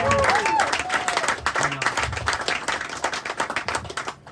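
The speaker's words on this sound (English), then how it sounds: "Everybody give him a round of applause." An audience at a club event applauds a guest named John Peasy, loud dense clapping with crowd noise and a few voices mixed in throughout the short burst.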